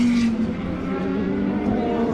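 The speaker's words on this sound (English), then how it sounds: "At racing speeds, that's the sound of the Aston and the Dome." Aston Martin and Dome race cars at racing speed during Le Mans 24 Hours, a loud, continuous engine drone with a steady pitched tone and brief rises.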